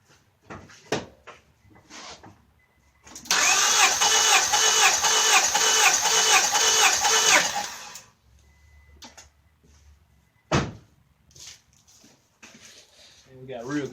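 Car engine cranking steadily on the starter for about five seconds during a compression test on cylinder 1, a loud rhythmic chugging preceded and followed by clunks and handling noises, with voices nearby.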